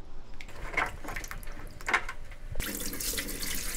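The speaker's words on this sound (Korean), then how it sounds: "찐물을 따라내고 씻어줘야 돼." Beef bones rinsed under a kitchen tap: a few light clinks and splashes, then running water gushes steadily and fairly close for the last second or so.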